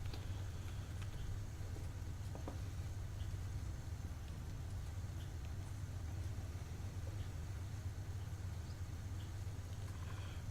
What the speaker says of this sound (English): Still feel like maybe the engine noise is a little bit quiet